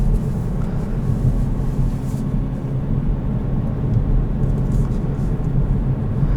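Steady low engine and road drone inside a 2020 Kia Forte GT manual cruising at city speed in sixth gear, constant and even with a voice talking over it.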